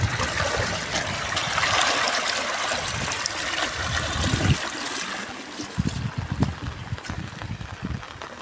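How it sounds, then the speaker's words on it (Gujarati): Rainwater running along a village road into a lake, a steady trickling and streaming flow close by, fairly soft and continuous, with a few faint knocks toward the end. "બધું તળાવમાં વહી જાય"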